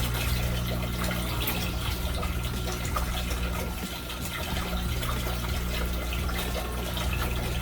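Water drains from a homemade aquaponics system in a loud, steady rushing gush that continues unbroken throughout.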